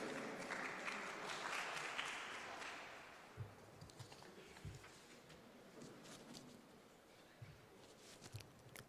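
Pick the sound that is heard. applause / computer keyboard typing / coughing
applause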